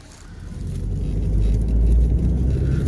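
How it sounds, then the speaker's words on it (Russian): Steady road rumble from inside a taxi moving through Tashkent, the engine and tyre noise swelling gently as the car picks up speed, with no talk. "Ну все, ребят, мы уже в такси, едем на Северный вокзал"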